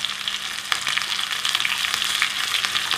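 Mustard seeds, cumin and finely cut red chillies sizzling in hot oil in a tadka pan make a dense, bright crackle with scattered sharp pops, steady and close, with no talking.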